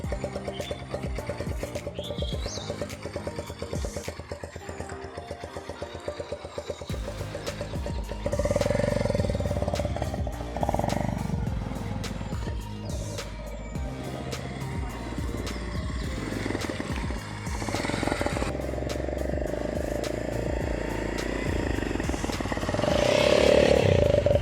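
A motorcycle ridden with a speed can fitted to its silencer, giving a continuous engine drone with rising and falling revs, wind noise, and a louder surge near the end.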